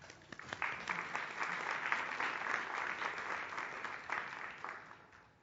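Audience applause fills a seminar room as a research speaker is welcomed to the lectern, steady and broad for several seconds before thinning toward the end.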